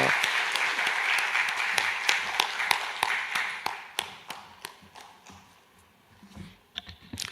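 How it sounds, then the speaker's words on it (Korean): A church congregation at an evangelism seminar claps in praise, a dense burst of hand claps that thins into scattered, separate claps and fades toward the end, with no talking. "하나님 앞에 영광의 박수 올려드리겠습니다"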